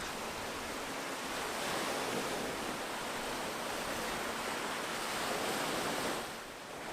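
Steady broadband wash of surf breaking on a beach in Tunisia, continuous and fairly loud with slight swells in intensity and some wind rumble on the microphone, no speech.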